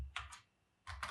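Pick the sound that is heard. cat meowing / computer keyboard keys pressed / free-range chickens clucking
computer keyboard keys pressed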